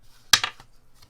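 Scissors snip around the edge of a scrapbook card: one sharp close cut followed by a few softer quick snips, alone in a quiet room.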